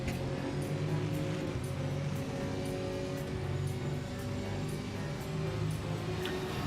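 Racing car on the Nürburgring Nordschleife accelerating out of the braking zone after Adenauer Forest toward Metzgesfeld: a steady, droning engine note heard from inside the car, continuous and moderately loud, with no talking.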